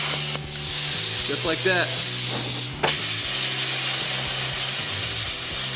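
A Hypertherm plasma cutter pierces and cuts steel plate with a loud, steady hiss that runs throughout, broken by a short gap near the middle. Someone speaks briefly over the sound.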